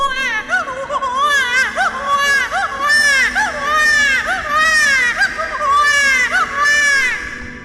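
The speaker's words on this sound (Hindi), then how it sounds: "ये तो कोई छोटी बच्ची की रोने की आवाज लग रही है।" A little girl cries close by in repeated wailing sobs, each wavering cry followed by a short catch of breath, going on without pause.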